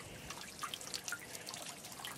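Water drips and trickles from a frost-proof hydrant at a horse barn, a faint, steady wet patter with small splashes scattered through it.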